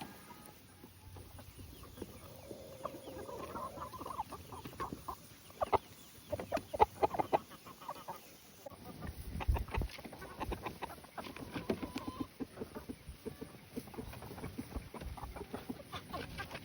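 Chickens cluck irregularly nearby in short bursts, mixed with scratching and rustling noises, the activity picking up in the middle.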